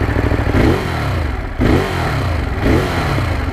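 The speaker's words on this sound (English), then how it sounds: "right now we're starting up, and it's the sport mode, so I want you to pay close attention to the engine sound" A Ducati Monster 821 motorcycle engine revving in sport mode, loud and close, with repeated rising surges and a brief drop between throttle pulls.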